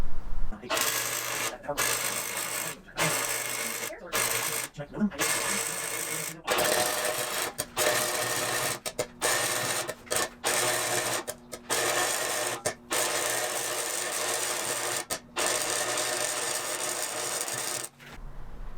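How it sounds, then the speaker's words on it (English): A welder joining the driver's side frame rail of a Nissan S13 240SX chassis back together, a loud steady buzzing crackle in repeated bursts separated by brief pauses. "that's the driver's side frame rail welded back together"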